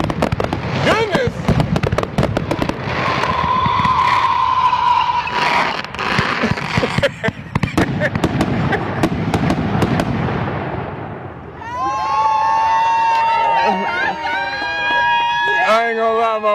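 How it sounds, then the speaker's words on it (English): A long, expensive birthday fireworks display crackles and booms in dense, loud volleys, then fades as voices rise up excitedly and talk nearby. "That was 10 minutes worth of fireworks."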